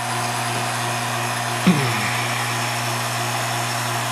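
A recovery machine pulls R12 freon and oil out of Jeep XJ air conditioning hoses, making a steady droning hum with a constant tonal whine and one brief clunk partway through.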